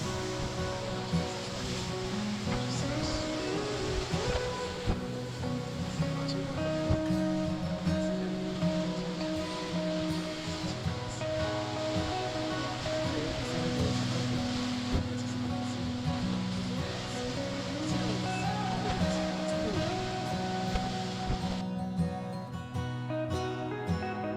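Steady rushing wind blows across an open balcony on the cruise ship Viking Venus sailing Alaska's Inside Passage, mixed with broad noise like waves and music playing continuously underneath.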